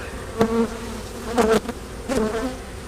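Honeybees buzzing at an open over-wintered hive, a close, droning hum that swells in three short bursts over a quieter background.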